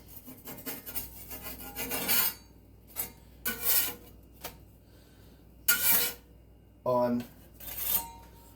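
Gluten-free pizza slid from one metal baking pan onto another hot pan: a series of scraping, rasping metal rubs and clanks in irregular bursts separated by quiet gaps, close by.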